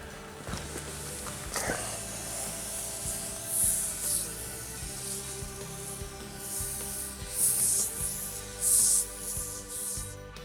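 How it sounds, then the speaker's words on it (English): Yellow lawn tractor wheels from a John Deere are scrubbed clean after soaking, giving soft repeated rubbing and brushing strokes close by over a low background hum, swelling in a few louder bursts. "And then we should be able to give them a good scrub"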